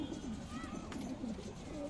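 A pigeon coos softly and repeatedly in low, throaty calls while it is handled for feather trimming, close but quiet, with faint talking in the background.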